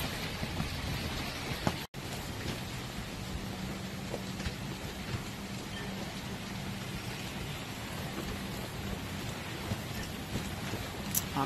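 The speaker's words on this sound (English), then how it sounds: "it just started pouring, and you may have heard the thunder just as it started" Heavy rain pours down steadily in the outer bands of Hurricane Michael, a dense, continuous hiss that stays loud and even throughout, with a brief sharp crack near the start and no clear rolling thunder.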